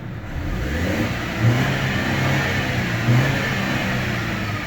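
A Mercedes W211 E200 engine, cured of a misfire, runs smoothly and is revved in two gentle swells over a steady mid-pitched hum, recorded close up with no talking.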